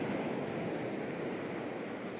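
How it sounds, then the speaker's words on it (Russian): Small sea waves roll ashore on a stormy October morning, a steady, broad wash of surf with wind noise across the microphone, moderately faint and without voices. "Но они как-то по какой-то очередности они приплывают, эти волны"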